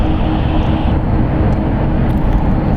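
Boeing 777 airliners arriving at San Francisco International Airport give a loud, steady jet roar that stays broad and unbroken throughout, with no talk over it.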